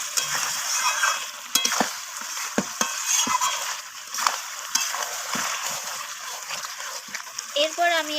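Chicken and spices are stir-fried in a pan, a bright continuous sizzle with scattered scraping strokes of a spatula, close and fairly loud, with a brief tonal squeak near the end.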